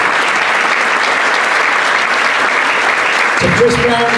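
Full audience applause at a Brentford football reunion evening for former player Brian Flynn, a loud steady wash of clapping, with a voice starting to speak over it near the end.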